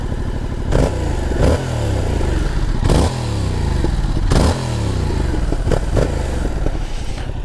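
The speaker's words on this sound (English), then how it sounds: "we'll do a exhaust note test and then jump this thing onto the motorway" A 2022 Yamaha MT-07 motorcycle engine revving hard, its exhaust rising in pitch through repeated gear changes, loud and close with a rough, barking tone.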